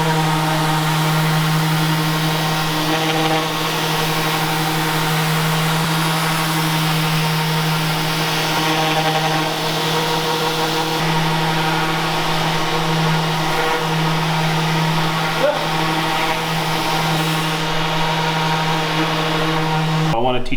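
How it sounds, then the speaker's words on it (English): Power sander running steadily on a wooden cabinet shelf, a continuous close droning whine with a strong constant hum that holds for the whole stretch, no talking over it. "Let's get a quick sand on this and cut the final dimension."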